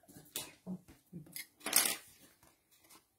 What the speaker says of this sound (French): Petit coup de ciseaux, ça sera pas mal